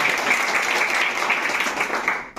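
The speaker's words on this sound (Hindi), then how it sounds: "ताली बजा सकते हैं" An audience at a ceremony honouring a student's rank claps steadily, a dense, even wash of applause that keeps going before cutting off abruptly near the end.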